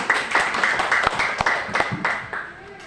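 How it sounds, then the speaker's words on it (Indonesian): A group of primary school teachers at SD Impres Naibonat claps in a quick rhythmic pattern of sharp, evenly spaced beats, with voices calling along over the claps. "Semua tepuk tangan dulu."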